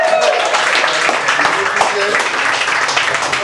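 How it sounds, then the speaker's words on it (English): A crowd at a comedy club breaks into applause, a dense burst of clapping that fills the room for a few seconds, with no voices over it. "Give yourselves a round of applause for coming out tonight."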